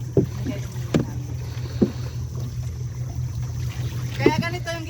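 A flat bottom tour boat glides through a lagoon at Sta. Cruz Island, with a low steady motor drone, a few soft knocks and splashes, and brief voices calling near the end.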